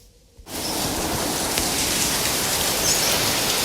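Steady rain begins abruptly after a brief quiet moment, then pours evenly and loudly, a dense hiss of drops hitting surfaces with no voices.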